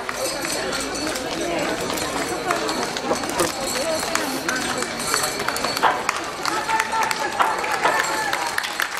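Spectators at the finish line of a Pruszkowski Bieg Wolności running race applaud continuously, with crowd chatter and an announcer's voice over the clapping.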